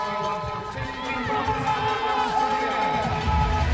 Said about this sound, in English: the crowd makes themselves known to the two teams